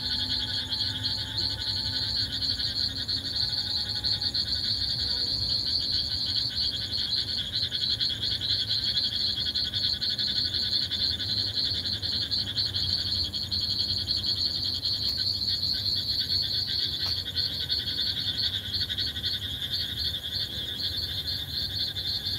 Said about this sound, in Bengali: আপাতত ঝিঝি পোকার ডাক।